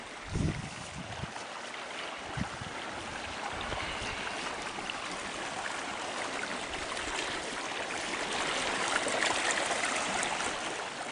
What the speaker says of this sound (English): The creek is very deep here.